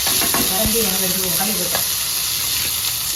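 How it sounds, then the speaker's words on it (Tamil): Chopped onions hit hot oil with spluttering mustard seeds, setting off a loud, close, continuous sizzle and crackle with stirring scrapes and no talking. "பொரிஞ்சதும் வெட்டி வச்சிருந்த பல்லாரி போடணும்"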